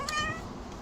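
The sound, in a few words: cat meowing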